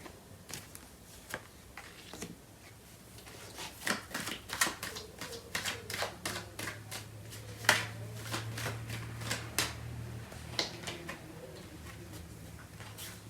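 A deck of tarot cards being shuffled by hand: crisp, close riffling snaps and soft card slaps in uneven bursts, growing busier toward the middle, with no talk.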